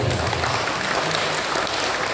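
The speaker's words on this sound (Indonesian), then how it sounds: "Tepuk tangan dulu." A church congregation at an HKBP gathering claps together in a steady, dense round of applause that fills the room for a couple of seconds.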